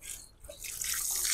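Water from a tap splashes and trickles while fish are rinsed during cleaning, a close, steady wash that grows louder toward the end.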